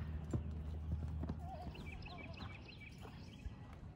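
Horse hooves clip-clop steadily at a barn while a horse whinnies and neighs, with birdsong chirping over the top and people talking quietly nearby.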